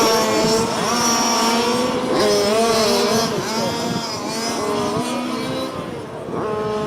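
Race cars roar together on a speedway at the start of a race, a dense, continuous engine drone with rising and falling pitch sweeps as cars accelerate past, loud and sustained, with faint voices underneath.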